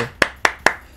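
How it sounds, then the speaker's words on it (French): Three sharp hand claps, evenly spaced and close by, each one crisp and brief, with quiet between them. "J'applaudis, j'applaudis des deux mains."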